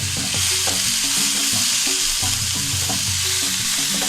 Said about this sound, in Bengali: সবজি কিন্তু প্রায় ভাজা হয়ে গেছে।